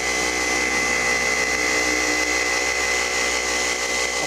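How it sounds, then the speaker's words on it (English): A car polisher runs at speed 4 to 5 with Overhaul 1000 heavy cut compound, a steady, loud, continuous motor whir with a constant high whine and no change in pitch, close and without talking. "now move up to speed 4 or 5 or whatever's necessary on your polisher"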